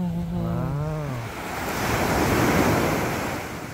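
Ocean waves wash and splash against the shore in a broad, rolling surge that swells and eases, with wind buffeting the microphone and a brief tonal whine fading out near the start.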